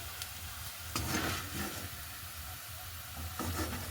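Plantain pieces frying in hot oil with a continuous crackling sizzle, close and moderately loud, broken by a few sharper spatters and stirring scrapes.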